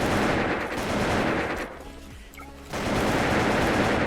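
Gunfire in the online shooter Wolfteam, loud continuous automatic bursts that break off briefly in the middle and then resume at full intensity.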